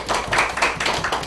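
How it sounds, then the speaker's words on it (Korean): Audience members at a Korean-language group talk break into a short burst of clapping, a few quick, close hand claps lasting just over a second with no voices. "예. 박수."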